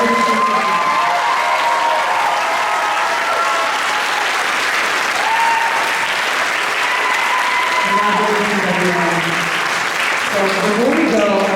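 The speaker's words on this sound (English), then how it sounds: "Now let's have a big round of applause for our 2025 Scholarship." Sustained, loud audience applause at a scholarship award ceremony fills the whole stretch, dense and steady, with scattered cheers and voices mixed in underneath.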